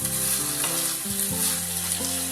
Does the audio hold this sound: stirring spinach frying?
yes